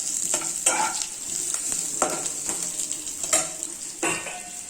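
Curry leaves crackle and sizzle in hot oil for a rasa broth, with repeated stirring scrapes and sharp spitting bursts over a constant hiss, close and fairly loud.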